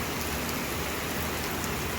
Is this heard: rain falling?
yes